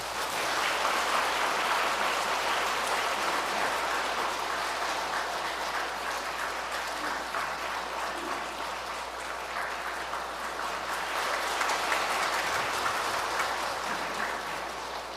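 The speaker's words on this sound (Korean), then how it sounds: "힘찬 박수로 모시겠습니다" A large parish congregation in a packed Catholic cathedral applauds in welcome of a lecturer for a Lenten talk, a thick, sustained wash of clapping that stays loud and even for the whole stretch.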